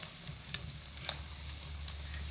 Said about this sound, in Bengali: এবার আমি আবারও একটু নাড়াচাড়া করে দিচ্ছি যাতে করে পুরো আমের মধ্যে সমস্ত মশলাটা খুব ভালো করে মিশে যায়